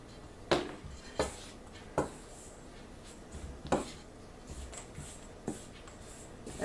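Spoon knocking against a bowl while dry scone ingredients and mixed spice are stirred together, a series of quiet, irregular taps and scrapes spaced about a second apart in an otherwise quiet kitchen.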